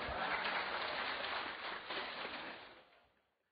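An audience applauds during a Catholic bishop's question-and-answer sermon, a steady dense wash of clapping that holds for a few seconds and then fades out.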